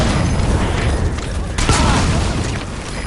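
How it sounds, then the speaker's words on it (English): Explosion in the video game Metal Gear Solid V: The Phantom Pain, a dense roaring blast with crackling debris and rumble filling the whole moment, loud and continuous, with a brief surge partway through. "Boss, did you see that explosion?"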